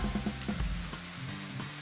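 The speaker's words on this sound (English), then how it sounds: "I'm frying this yellow squash up in 3 tablespoons of butter" Fresh yellow summer squash frying in butter in a pan, giving a soft, crackly sizzle with light popping, steady and close.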